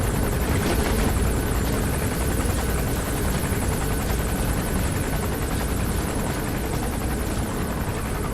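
A helicopter in a Metal Gear game, the arms dealer's patrol chopper, drones loudly and steadily throughout with a constant rotor chop and engine whine, close and unbroken.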